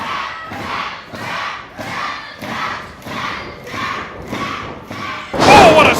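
A wrestler is slammed onto the ring by a suplex at a live independent wrestling show, with dull thuds beneath a loud, rhythmically chanting crowd that swells into a roaring cheer near the end.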